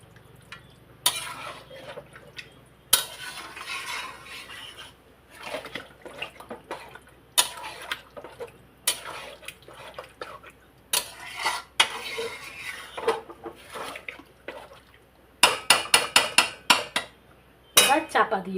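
A metal spoon stirs and mixes biryani meat in a pot, giving intermittent scrapes and clanks between quieter pauses, ending in a quick run of rapid clattering strokes, close and fairly loud, with no speech.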